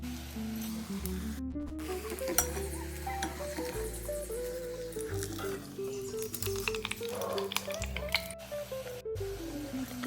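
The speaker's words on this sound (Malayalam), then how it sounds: "അതുപോലെ തന്നെ ബാക്കിയുള്ളതെല്ലാം നമുക്ക് പൊരിച്ച് പോരാം" Chicken rolls fry in hot oil, a steady sizzle running beneath a prominent melodic background music track throughout.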